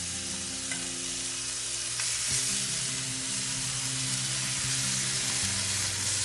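Continuous sizzling of food being stir-fried in a Lodge Cook-It-All cast iron pan used as a wok, a close, steady hiss broken by a few clanks and scrapes of stirring.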